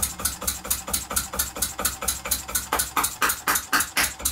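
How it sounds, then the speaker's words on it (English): A miniature model true diesel engine runs under load on its flywheel, chugging in a fast, even beat of about four sharp exhaust pulses a second, loud and close, with no talk. "And then the load on the flywheel. And I tell you, the engine has really a great pull."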